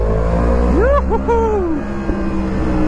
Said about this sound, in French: pour faire des petites pétarades, il faut mettre des légers coups de gaz